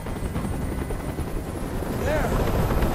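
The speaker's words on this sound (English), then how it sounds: "Tell that helicopter to get out of here!" A helicopter flies overhead in the video game Detroit: Become Human, its loud, steady rotor rumble filling the scene while a voice talks over it.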